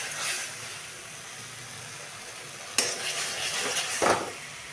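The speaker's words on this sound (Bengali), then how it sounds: "এখন কষানো হচ্ছে, দেখো" Chicken kosha being sautéed in a pan with a constant low sizzle, broken by a couple of distinct scraping stirs and a metallic utensil knock, close and moderately loud.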